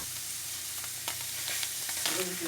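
Onions and nopales dry-roasting on a hot surface with no oil, giving a steady soft sizzle with a few faint scrapes and taps, close and unbroken by talk.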